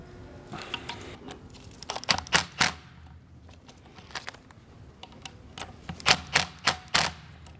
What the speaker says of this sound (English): So I'm just snugging these down and then I'll go back and torque them